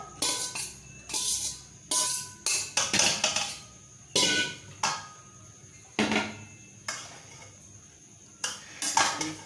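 Macaroni tips into a pan with chicken tikka and vegetables, followed by loud, close bursts of metal clattering and scraping at uneven intervals, with no speech.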